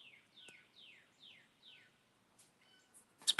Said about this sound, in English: I don't know if y'all can hear the birds